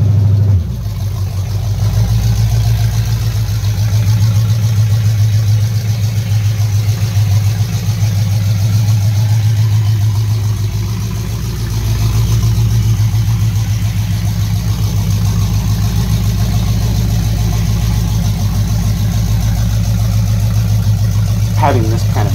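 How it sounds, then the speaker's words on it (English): A Chevy 350 V8 bored forty thousandths over, with stock heads, an RV cam and no exhaust, idles in a 1979 Chevy square-body pickup that sat for over twenty years and runs rich. Its open, loud rumble holds steady and close, with a brief dip partway through. "What you're hearing is a Chevy 350 bored 40 thousandths over with stock heads and an RV cam with no exhaust."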